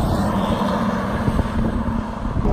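Ferrari 458 Speciale Aperta with its top down, driven on open Scottish roads, giving a steady, loud engine roar mixed with wind rush across the whole stretch.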